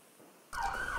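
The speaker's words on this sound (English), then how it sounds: "there are sirens screaming by my apartment right now" Emergency sirens scream past an apartment, bursting in abruptly midway and holding loud and near with a wavering wail over the rest of the moment.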